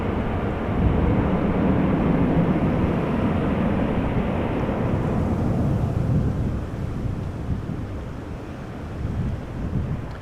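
A KLM Embraer 190 airliner in SkyTeam livery, arriving from Düsseldorf at Amsterdam Schiphol Airport, gives a broad jet roar that holds strong and then slowly fades, heard from a distance with wind buffeting.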